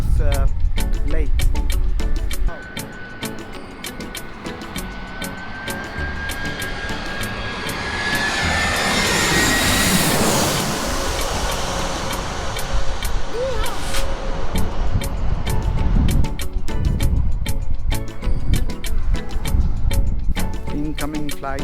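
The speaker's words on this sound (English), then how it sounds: "An incoming flight from Bari, Italia. Will land soon." A passenger jet on a flight from Bari comes in low to land at Skiathos Airport in Greece. Its engine roar builds from far off, rises to a loud, close pass near the middle and then fades away. Voices and crowd chatter run throughout.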